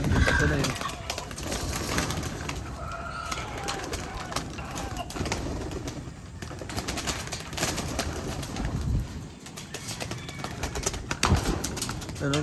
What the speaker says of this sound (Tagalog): Ayan sila mga kalapatids, oh.